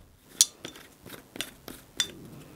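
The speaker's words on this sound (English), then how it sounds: "screw on the dropper" A plastic dropper is screwed onto a small bottle of clipper oil for an agricultural shearing clipper, giving a few light clicks and glassy clinks spread over a couple of seconds, close by with no talking.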